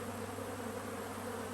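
Dense, steady buzzing of many honey bees swarming a robbing station fed with sugar syrup in a bee yard, a continuous droning hum with no voices.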